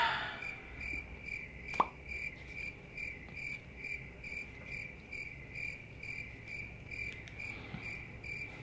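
Crickets chirp as an added sound effect, a steady train of high pulsing trills repeating evenly and clearly throughout, with a brief soft plop near the start and no talking.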